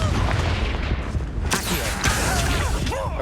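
The Confringo explosive spell going off in Hogwarts Legacy: a loud blast with cracking bursts, set against dense, constant combat noise.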